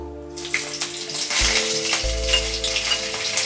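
Green chili and black cumin hit hot mustard oil with a sharp, steady sizzle, bursting louder after the first half-second and holding a dense crackle throughout, with a low hum running underneath.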